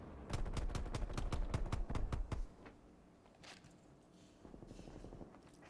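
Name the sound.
gunfire in Xbox video game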